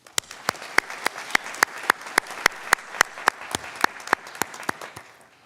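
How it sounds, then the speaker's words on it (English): Clapping at a graduation hooding ceremony comes as sharp, evenly spaced claps in a steady rhythm of about three per second, close and distinct over a faint room background. "Please join me in showing our appreciation with a round of applause."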